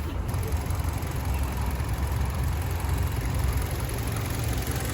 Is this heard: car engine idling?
yes